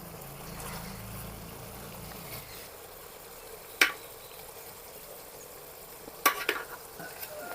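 Pieces of village pond fish for an Andhra-style curry sizzling steadily in a pan, with two sharp metallic clanks of a utensil turning the pieces; low, close, and free of talk.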